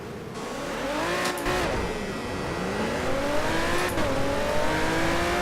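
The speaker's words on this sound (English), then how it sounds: "I'm going to run you through a quick one-lap race on the PC simulation game Project Cars" A race car engine in the PC racing game Project Cars revs and climbs steadily through the gears, its pitch dropping at each shift, with a brief tire squeal, loud and continuous.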